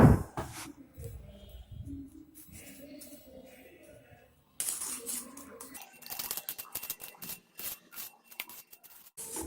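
Eggs seasoned with salt and pepper are beaten in a bowl for a Spanish omelet, giving a run of quick scraping, tapping strokes that stop briefly and then resume more busily and louder.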